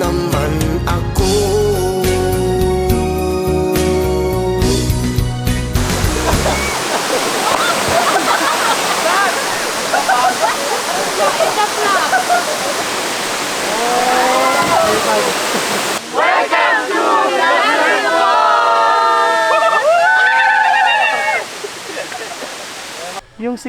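Lugnason Falls waterfall on Siquijor roars steadily as a broad wash of water noise, preceded by a few seconds of music, with people talking over the falls near the end.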